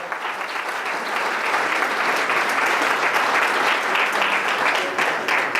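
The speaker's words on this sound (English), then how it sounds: "Let's give our regional consultant a round of applause" Loud, sustained applause fills a hall at the Ambition 2013 event in New York as a large audience claps for a regional consultant, dense and steady throughout with little talk.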